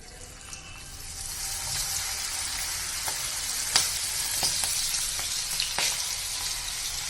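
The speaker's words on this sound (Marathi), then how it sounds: "तर आपण त्यामध्ये हे तयार केलेले स्वीट कॉर्न टाकून घेऊया।" Prepared sweet corn drops into hot oil and fries over medium heat, a bright continuous sizzle that builds after the first second, close and steady, punctuated by a few sharp pops and clicks.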